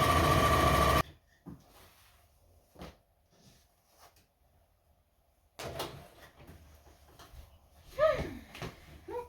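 A sewing machine stitches caravan curtains in a few short bursts with quiet pauses between, ending in a longer run mixed with fabric handling and small clicks.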